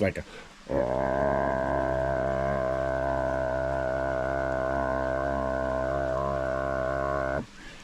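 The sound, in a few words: voice imitating freshwater drum fish mating sound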